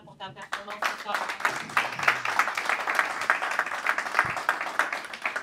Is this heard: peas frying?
no